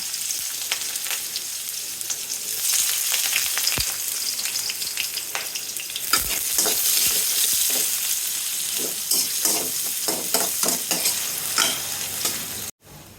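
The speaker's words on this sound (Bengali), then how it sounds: "তেল গরম হয়ে গেছে দিয়ে দেবো পেঁয়াজ" Onions crackle and hiss in hot oil in a wok, a loud, sustained close-up sizzle with frequent sputtering pops and brief stirring scrapes that cuts off abruptly near the end. No speech.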